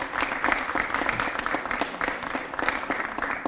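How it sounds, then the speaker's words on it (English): An audience at a city mayor's announcement applauds in a dense, continuous wash of many hands clapping, steady and fairly loud, with faint voices mixed in. "Let's give them a round of applause, please."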